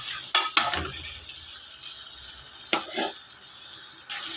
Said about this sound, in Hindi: अब इसको हल्की आंच पे अच्छे तरीके से बुनाई करें।